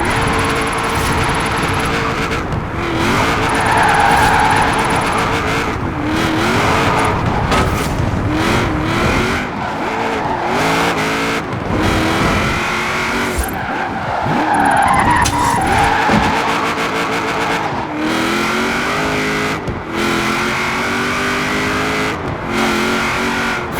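A car drifts in Forza Horizon 4 with loud, sustained tyre skidding and engine revving that rise and fall across repeated slides, close and continuous throughout.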